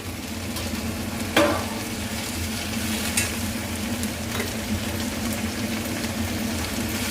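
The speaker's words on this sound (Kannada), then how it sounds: "ಈಗ ಚೆನ್ನಾಗಿ ಫ್ರೈ ಮಾಡ್ಕೊಳ್ಳಿ." Chopped broccoli fries in a pan for a pepper fry snack, giving a dense, continuous sizzle close by with occasional spatula scrapes and stirring clicks, and no speech.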